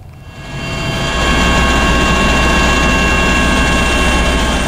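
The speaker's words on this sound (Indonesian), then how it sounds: "Tim gabungan Basarnas melakukan pemantauan udara menggunakan helikopter di atas perairan Selat Bali bagian utara dan selatan" A search and rescue helicopter flies over the open sea of the Bali Strait, a loud, steady rotor and engine roar that swells in the first second and then holds constant and close.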